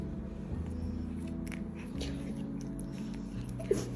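A dog chews and bites food close by, soft irregular crunches and smacks over a low steady hum, with one sharper click near the end.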